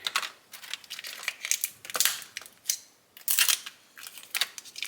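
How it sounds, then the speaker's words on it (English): Kitchen shears snipping through lobster shells in a kitchen, a series of close, crisp crunching cuts in irregular bursts with short pauses between them and no voices. "just use your shears here"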